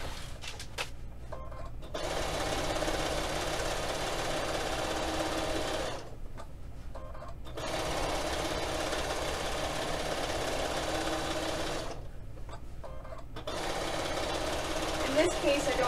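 A sewing machine stitches a quilt border in steady, buzzing bursts, running for several seconds, pausing briefly, then starting again, loud and close throughout with no talking.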